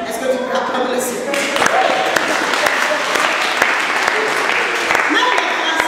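A church congregation applauding together, a dense sustained clapping roar with a few louder claps standing out, fairly close and loud, with voices mixed into the crowd.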